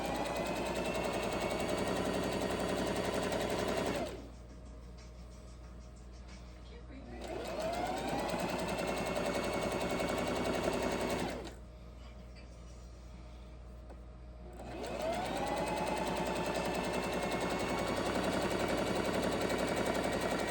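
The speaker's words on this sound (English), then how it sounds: "We're going to use this gold metallic thread to sew all of the lines at the longest stitch." Sewing machine running a long straight stitch through velvet with gold metallic thread, a steady loud mechanical whir that stops twice for a few seconds and then resumes.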